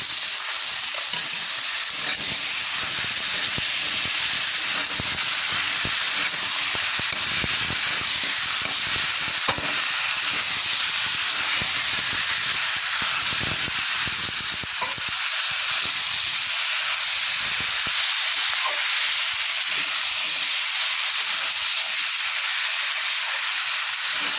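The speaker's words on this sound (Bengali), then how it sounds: "এবার দিয়ে দেবো পেঁয়াজ আদা রসুন আর টমেটো একসাথে" Onion, ginger, garlic and tomato sizzling together in a hot pan with oil, a steady loud hiss of frying that runs unbroken throughout, close by with no talking.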